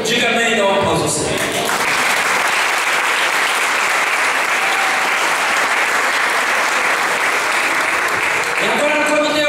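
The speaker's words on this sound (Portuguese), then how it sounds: "dá um aplauso ao Senhor." A church congregation applauds in a dense, loud, sustained burst lasting several seconds, with a voice heard just before it starts and again as it fades.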